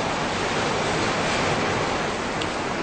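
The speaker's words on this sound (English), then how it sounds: "Only the wash of the river keeps us rolling on." Rushing water of the Nile river, a steady broad wash that fills the whole clip with no gaps, close and loud with no voices.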